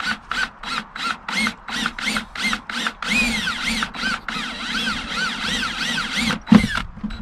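A power drill with a spade bit revs in short repeated bursts, then grinds continuously as the bit chews through a plastic tote, loud and close.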